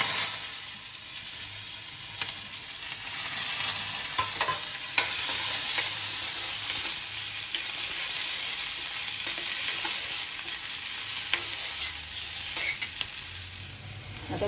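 Chopped onion and green chili with cumin, asafoetida and curry leaves sizzle and fry in hot oil in a pan, a steady bright crackle with occasional stirring scrapes, close and continuous without talk.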